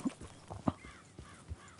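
Horse hooves in Red Dead Redemption 2 clip-clop in a few sharp, uneven knocks over a short stretch, fairly close, with a soft snort-like breath between them and no talk.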